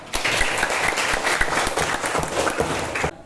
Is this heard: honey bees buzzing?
no